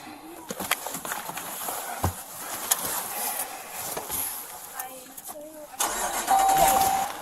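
A car engine cranks and catches, then runs at a low idle in the open air, with people talking nearby and passing faint bird calls.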